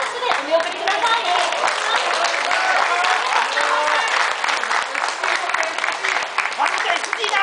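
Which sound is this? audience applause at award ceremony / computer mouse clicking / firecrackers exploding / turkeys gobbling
audience applause at award ceremony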